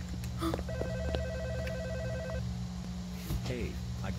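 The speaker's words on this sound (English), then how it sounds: "I get the phone ringing. Phone's ringing." A telephone rings in a Roblox night shift game, a repeating electronic ringtone pattern over a low hum, with a person talking briefly around it.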